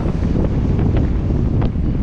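Steady wind buffets the microphone while riding between mountain bike parks, a loud continuous rumbling roar with gusty flutter and no voices.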